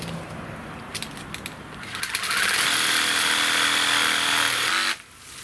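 A pruning blade saws through tough timber, starting with sharp clicks and scrapes, then a steady loud rasping cut that runs for a few seconds and stops abruptly.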